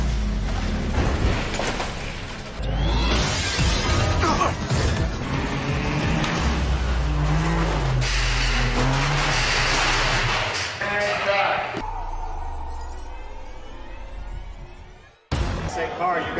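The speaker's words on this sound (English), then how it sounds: "you will see the car jumping through and then run right toward us" A stunt car on a raised deck of trussing bursts through a built window for a Fast and the Furious shoot, giving a loud rumbling crash and engine roar that fades, then a sharp thump as people talk over it.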